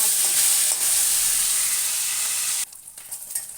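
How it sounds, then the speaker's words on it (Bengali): Pona fish fries in hot oil with a loud, continuous sizzle that cuts off abruptly partway through, leaving quieter, intermittent crackles. "একটু কড়া করে মাছটা ভাজবো"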